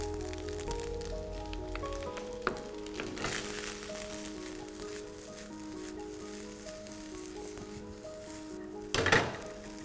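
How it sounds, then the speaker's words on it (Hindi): Egg bhurji rice crackles and sizzles on a tawa over a high flame, a steady close frying hiss with occasional spatula clinks and a sharp scraping clatter near the end. "हाई फ्लेम पे एकदम चिटचिट चिटचिट चिटचिट होने देना चावल को"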